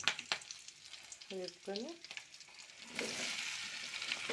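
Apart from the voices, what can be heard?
tempering seeds frying in oil in a pan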